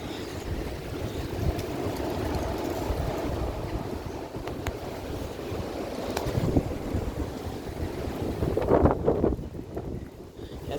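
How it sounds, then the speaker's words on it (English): Strong wind gusts buffet the microphone in a rough, continuous roar, swelling louder near the end before easing off, with a faint voice briefly underneath. "Yeah, it's pretty windy."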